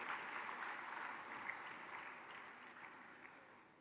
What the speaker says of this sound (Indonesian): Mari kita beri tepuk tangan kepada seluruh debitur KUR.